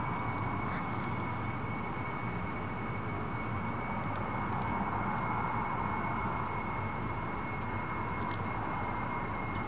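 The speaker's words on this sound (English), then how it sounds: "Little air breathing engine doesn't like being up this high." Steady, loud drone of an air-breathing jet engine on a plane in Kerbal Space Program, flying at high altitude, holding one continuous roar with a faint high whine on top and a few light clicks.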